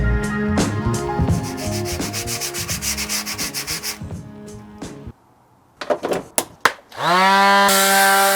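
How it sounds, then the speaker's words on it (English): Sandpaper rubs down the ceramic edge of a Kamado Joe Classic II grill in quick, rhythmic back-and-forth strokes. Close, rasping scrapes stop, a few sharp knocks follow, then a sustained droning hum. "give this a quick rub down with a piece of sandpaper"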